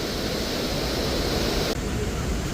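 Water rushing out at Hatnur dam, a loud continuous broadband roar of heavy flow filling the whole clip, close and steady with no break.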